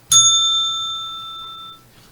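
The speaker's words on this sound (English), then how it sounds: "You tuned your bell." A small bell struck once, ringing out clear and loud up close and then fading away over about two seconds.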